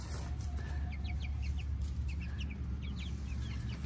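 Chickens cluck in short, scattered bursts, moderately close, over a constant outdoor background hiss.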